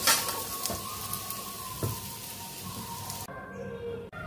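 Jackfruit and potato pieces frying in oil in a pan, a steady close-up hiss and crackle that drops off abruptly near the end.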